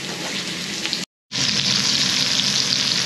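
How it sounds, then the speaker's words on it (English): Burgers sear in a hot pan with a steady, loud, close sizzle that cuts out for a moment and then comes back even stronger and crackling. "the first thing I need to do is to sear these for a minute or two on each side"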